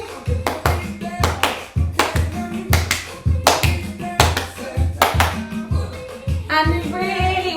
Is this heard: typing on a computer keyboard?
no